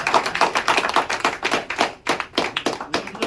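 Applause for graduating seniors, a dense burst of many hands clapping close by, holding steady for a few seconds with no talk.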